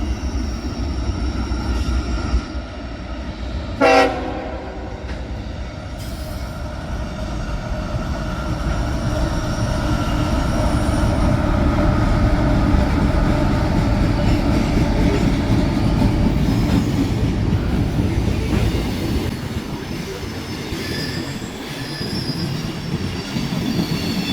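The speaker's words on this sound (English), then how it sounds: "Little horn salute, along with a few Pan Am boxcars behind a pretty fresh leader." A CSX freight train, M326, with Pan Am boxcars behind a fresh lead locomotive, gives one short horn blast early on, then rolls past with a steady loud rumble of wheels and faint squealing.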